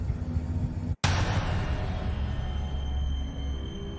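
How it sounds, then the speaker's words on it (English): Rushing water roars loudly and continuously in the Thief video game, a dense broadband wash that drops out for an instant before resuming just as strongly. "Oh, water is loud."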